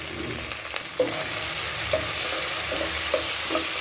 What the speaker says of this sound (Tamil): வெங்காயம் ஃபுல்லாக நல்லா வதங்கிட்டு இப்போ நம்ம தக்காளி சேர்த்து